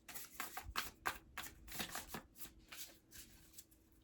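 A deck of flexible, slightly slick matte-finish oracle cards being shuffled by hand, close up, in quick repeated riffles and soft slaps with short pauses between bursts.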